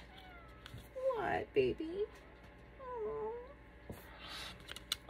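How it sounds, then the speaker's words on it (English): A house cat meows several times up close in drawn-out, wavering cries, with someone briefly speaking to it between the calls. "Sorry, my cat interrupted."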